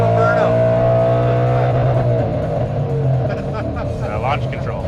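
A 2012 Ford Mustang Boss 302 does a burnout, its engine roaring loud and close with a sustained rumbling drone and climbing revs, tire noise layered in, while people talk over it.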